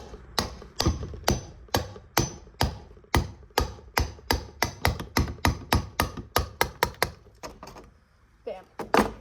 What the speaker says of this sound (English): grab a hammer. If you don't have a rubber mallet, use the handle.